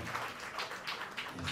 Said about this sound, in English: Let's give a clap of hands to God for that.